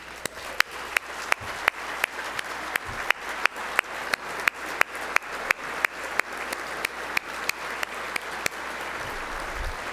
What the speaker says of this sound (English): please stand up for a round of applause and a big thank you